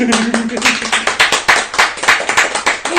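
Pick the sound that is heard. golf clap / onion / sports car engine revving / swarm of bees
golf clap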